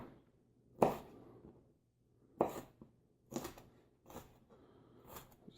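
A knife chops mild jalapenos on a cutting board for pico de gallo, giving five or six separate crisp thuds at an uneven pace, close and fairly quiet with no voices.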